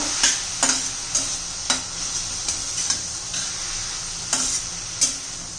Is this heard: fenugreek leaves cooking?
yes